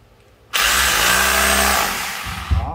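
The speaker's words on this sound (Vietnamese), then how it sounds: "Đó, đây là khoan bê tông này." A Makita 220V hammer drill switches on and runs steadily in concrete drilling mode, a loud whirring motor hum lasting about two seconds before spinning down, with a small knock near the end.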